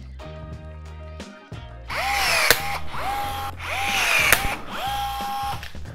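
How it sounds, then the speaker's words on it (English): A power drill bores out holes for a custom boat switch panel box, several separate bursts of whirring with rising motor pitch and rattling bit noise, close and loud, with no talking. "Let's go ahead and drill out the holes."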